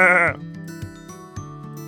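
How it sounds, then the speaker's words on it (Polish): A single sheep bleat with a wavering, quavering tone, loud and close, followed by a quiet musical background. "To zwierzę to owca."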